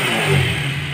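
A used motorcycle's electric self-started engine runs steadily with a slight rev, its low, continuous hum filling one brief moment with no voices.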